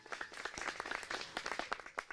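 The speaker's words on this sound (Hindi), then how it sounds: "ये तालियों की गड़गड़ाहट" Applause from an audience at an outdoor village gathering (chaupal) in Uttar Pradesh, a steady patter of many hands clapping at moderate, somewhat distant level with no talk.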